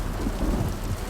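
Steady rain pours down amid a thunderstorm with rumbling low thunder, a dense continuous wash of sound over about a second with no voices.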